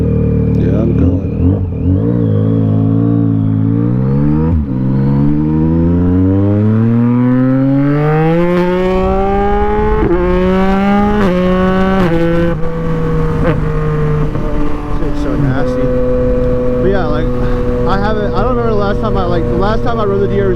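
A Suzuki DRZ motorcycle engine revs loud and close while riding, climbing through gears with rising pitch sweeps, brief drops at each shift, then steady cruising.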